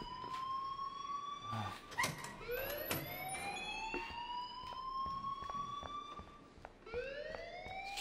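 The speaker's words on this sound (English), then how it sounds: "please turn off that alarm since that's your job" A rising, wavering electronic alarm sounds in the video game Life is Strange, with repeated whooping siren-like sweeps continuing steadily over several seconds against a quiet background.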